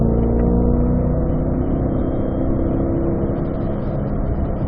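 A car pulling hard through fourth gear on a race track during a driving lesson, a steady loud engine drone that holds evenly from start to finish with no talk.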